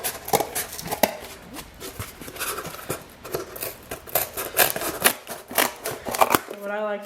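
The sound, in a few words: scissors cutting cardboard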